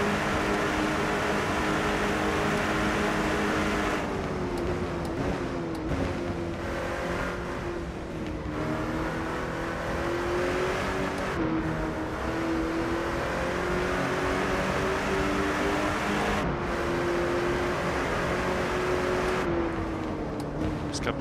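The engine of an Aston Martin GT3 EVO race car in the racing game Rennsport drones continuously, its pitch rising and falling through gear changes, with sharp cuts at shifts and a loud, steady presence throughout.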